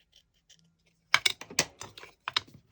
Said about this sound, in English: I've got to trim that just a little bit.